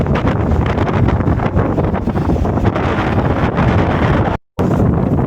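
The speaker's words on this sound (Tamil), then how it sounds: "செம்ம காற்று அடிக்குதுங்க இங்கே." Strong wind at Kaveri Paakkam lake in Ranipet buffets the microphone with a constant loud roar, cutting out briefly near the end before resuming.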